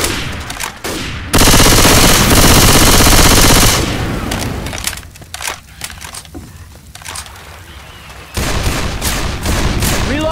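Machine gun fire in the Left 4 Dead 2 Dark Carnival zombie shooter, loud dense bursts of rapid gunshots with a sustained volley early on, then scattered shots and another heavy burst near the end.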